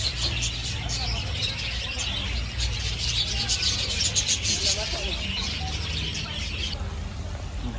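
Many small birds chirp and tweet continuously at a zoo, a busy chorus over a low hum, with faint voices nearby.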